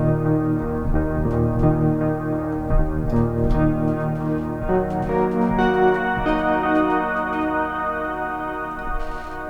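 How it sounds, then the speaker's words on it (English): Sustained, layered chords from a Cherry Audio Mercury-4 synthesizer play with its classic Roland-style ensemble effect switched on, giving a thick, shimmering tone with steady pulsing note changes and no voices. "But the ensemble is the real classic Roland ensemble sound."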